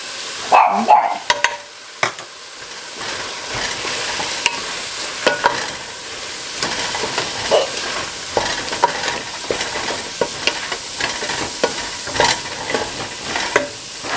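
Beef stew ingredients being stir-fried in a pan: a steady sizzle with repeated scraping and clacking as the utensil stirs, close and moderately loud, with almost no talk.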